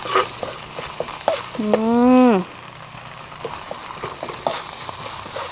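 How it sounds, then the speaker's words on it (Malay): Ingredients sautéing in a pan for papeda, an Indonesian sago dish, give off a steady faint sizzle with scattered clicks and stirring taps, while a voice briefly rises over it. "Tumis dulu."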